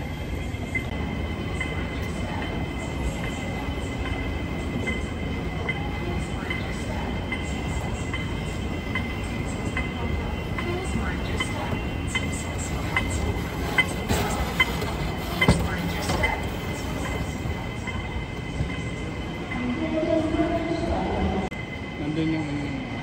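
A Hong Kong train ride, with a steady loud rumble of rolling wheels and carriage noise throughout, some squealing and clatter, and faint voices of passengers underneath.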